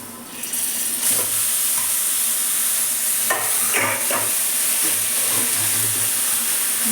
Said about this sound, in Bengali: নাড়তে হবে